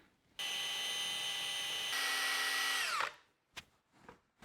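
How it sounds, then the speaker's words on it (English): A power drill mixing clay slip for slip casting whirs steadily for about three seconds, its pitch shifting partway, then winds down, followed by a few soft knocks. "I'm going to go ahead and take my drill and mix this up real quick."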